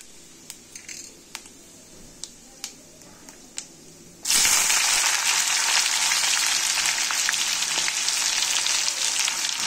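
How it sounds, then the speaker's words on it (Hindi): Oil sizzling hard in a kadhai, the loud steady frying hiss cutting in suddenly about four seconds in after a few quiet clicks and taps, then holding at a constant level to the end. "और कढ़ाई में होगी तेल गरम"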